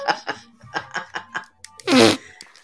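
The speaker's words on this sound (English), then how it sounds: "Everyone bend everyone over. Fart in unison" A group of people bent over fart together on cue, a string of short rhythmic blasts followed by one long, loud, drawn-out release up close.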